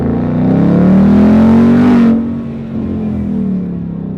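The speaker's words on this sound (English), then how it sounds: "The car sounds epic." A Ford Mustang GT V8 engine revs hard in second gear with a deep exhaust roar, climbing in pitch, then drops to a lower steady rumble after a gear change.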